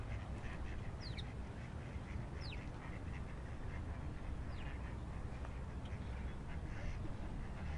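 A duck quacks repeatedly over steady outdoor background noise near a pond at a university campus, with brief higher calls breaking through now and then and no talk.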